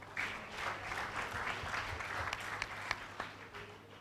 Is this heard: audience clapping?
yes